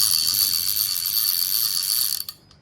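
A Penn Senator 113H fishing reel clicks its ratchet in a fast, dense buzz of ticks while the spool turns, sounding close and loud and then stopping abruptly with a few final clicks.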